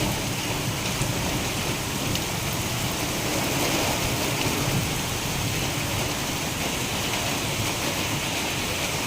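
Heavy village rain pouring down with water rushing through overflowing canals, a dense, steady broadband hiss and roar that stays constant throughout, with no voices.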